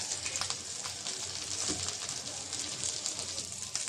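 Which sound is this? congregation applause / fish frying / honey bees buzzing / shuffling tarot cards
fish frying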